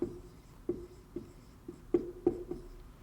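Marker or chalk strokes on a board, a series of short taps and scratches close by, with about six distinct marks spread over a few seconds.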